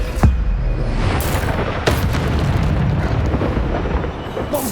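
Bombarda blasting spell explosions from the video game Hogwarts Legacy, with a deep boom near the start and another around two seconds, set in a continuous rumbling roar of battle effects that stays loud throughout.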